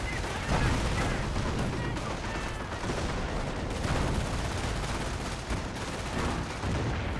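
Dense battle din from Company of Heroes, with repeated anti-tank gun shots hitting an AT gun amid continuous gunfire and explosions, loud and steady throughout.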